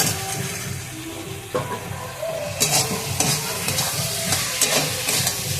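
Spice mixture being stir-fried in a pan for a Bengali vegetarian banana flower dish, with steady sizzling and repeated scraping strokes of a spatula, close and fairly loud, no talk.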